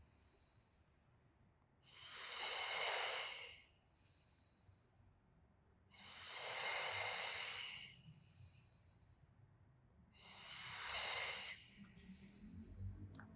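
Slow, deep breaths hiss in and out during a relaxing stretching routine, three long exhales alternating with softer inhales in a calm, even rhythm, close to the microphone.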